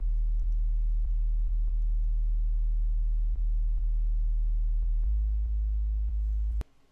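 A deep sustained phonk bass tone sidechained to soft kick drum thumps pumps in and out, ducking rhythmically before shifting pitch and stopping abruptly.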